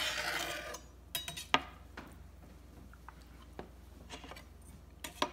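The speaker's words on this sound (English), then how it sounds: "Our knife will go right through." A knife cuts through the joint of a whole raw chicken being broken down, with a rasping scrape at first and then scattered soft clicks and taps close up.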